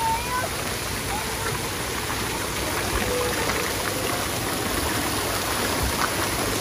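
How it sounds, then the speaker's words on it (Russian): Water pours steadily into a large tipping bucket at a children's aqua park in Bali, a constant broadband splashing rush that stays even throughout, with distant crowd noise blended in. "Сейчас чаша уже наполнится и перевернется."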